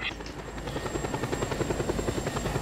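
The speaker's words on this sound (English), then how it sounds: "I'll be right behind you in the chopper" A helicopter flies in the Just Cause 2 video game, its rotor beating in a steady, even pulse over a constant engine drone that stays close and loud for the whole stretch.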